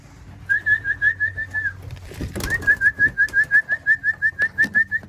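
Repeated soft bird calls, a steady run of short cooing or whistled notes near by, with a brief rustling clatter in the middle before the calls resume.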